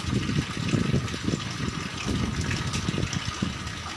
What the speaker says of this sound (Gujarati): પાણી ખૂબ ઝડપથી વધી રહ્યું છે